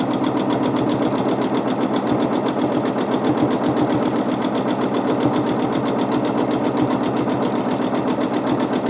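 Sewing machine running continuously during free motion quilting, a fast, steady needle chatter with an even mechanical rhythm, loud and close throughout with no talking.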